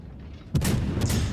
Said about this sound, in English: get far enough back and start to fire some more